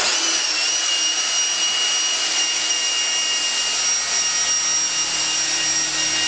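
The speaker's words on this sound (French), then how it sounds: "on va les passer avec les rouleaux Blendex" A power tool fitted with a fine-grade Blendex surface-conditioning roller finishes a surface with a steady, loud, unbroken whirring hiss and a constant high tone. No voices are heard.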